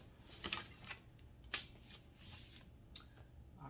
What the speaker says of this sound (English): I'm just taking my scissors. Let's cut this extra piece off.